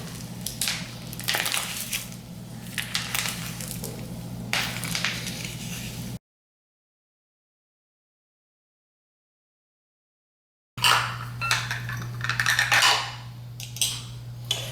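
Sticky protein trail bar mixture is squished and kneaded by hand in close, wet, crunchy bursts, broken by a silent gap partway through before the squelching resumes.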